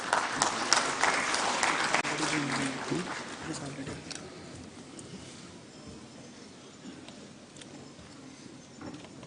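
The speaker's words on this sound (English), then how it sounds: "A round of applause, ladies and gentlemen." Audience applause at the NHEA 2021 awards at Vigyan Bhawan: a loud burst of many hands clapping that thins and fades over several seconds, leaving quiet hall murmur.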